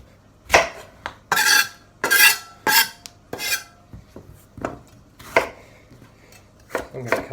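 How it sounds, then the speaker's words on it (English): A knife chops vegetables for a cauliflower and aubergine curry, making a series of sharp, close cuts on a board in an uneven rhythm, some strokes in quick pairs, with no talking. "I'm going to cut that quite nice and fine so it cooks quickly."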